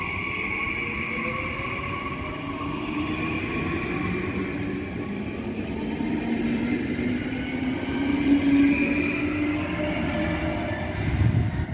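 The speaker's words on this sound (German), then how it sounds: "hier hat Ausfahrt RE55 von Würzburg nach Frankfurt über Hanau" A Twindex 445 regional train, the RE55 Main-Spessart Express bound for Frankfurt, pulls out of a station platform. It gives a steady rumbling roll with rising motor tones and a faint wheel squeal that grows a little louder toward the end.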